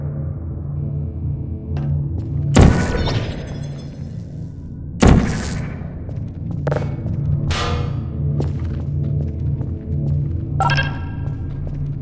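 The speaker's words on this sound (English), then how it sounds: "Vital testing apparatus destroyed." Testing apparatus is smashed in the Portal video game: two sharp, loud crashing impacts a few seconds apart, followed by lighter clatters over a steady low mechanical hum.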